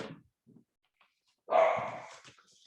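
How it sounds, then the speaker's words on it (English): A dog barks indoors, with a few faint yips followed by one loud, drawn-out bark up close that trails off into softer whimpering sounds. "my dog is being extra noisy right now"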